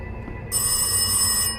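Telephone ringing in the horror video game Rise of Insanity, one short electronic ring burst that starts abruptly and cuts off just as fast, clear and close over a quiet ambient hum.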